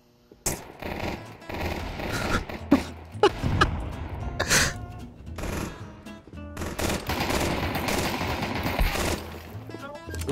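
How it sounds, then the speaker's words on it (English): Glock pistol burst fire in Counter-Strike 2, with loud, close, sharp gunshot bursts repeating irregularly through a busy, dense game soundscape. "Burst fire only with the Glock."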